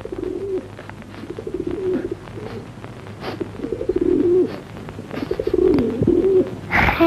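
Pigeons coo nearby in a repeated soft throaty rhythm, several calls in a row, with some rustling and a louder burst of noise at the end.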